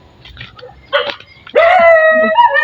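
A dog barks and yips close by: a couple of short muffled yaps followed by a longer, whining bark with a drawn-out tonal cry at the end.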